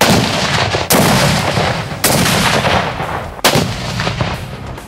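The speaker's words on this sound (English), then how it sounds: "And when they got shot, they blew up." Exploding targets are shot at a shooting range, giving three heavy, booming blasts about a second apart, each followed by a long, rumbling roar. The blasts are loud and fill the whole clip, with no talking.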